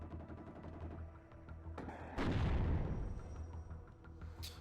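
Artillery fire in the WARNO strategy game lands as one heavy, booming impact midway through a busy battle ambience, followed by a rumbling decay and a brief sharp burst near the end.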